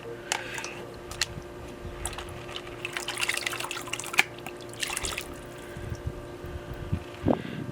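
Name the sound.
water swirling in a gold pan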